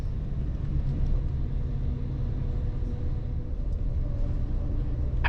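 Bus travelling on the road from Galway to Kerry near Clarenbridge: a steady, muffled low rumble of engine and road noise heard from on board, with no talking.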